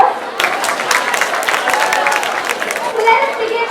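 A large audience at a college youth festival claps loudly for the dance competition participants. The applause is dense and continuous, mixed with cheering and chatter from the crowd.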